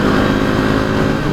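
An Aprilia RSV motorcycle engine rumbles loud and close in a sustained, even drone, passing on a Sunday morning group ride.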